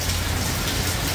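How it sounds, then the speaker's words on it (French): Rain falls steadily, producing a loud, even, continuous hiss of drops striking surfaces with no pauses and no voices over it. "L'eau de pluie."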